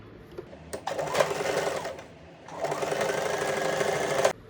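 A sewing machine stitches a deep-neck blouse in two bursts of steady, rapid mechanical running, separated by a short pause, close and fairly loud with no talk.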